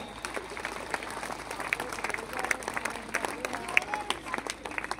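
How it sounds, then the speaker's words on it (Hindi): An audience at a live kavi sammelan poetry event claps, giving a fairly faint, distant patter of many hands with scattered sharper claps, while a voice carries on over the applause. "एक बार जोरदार तालियां हो आपकी"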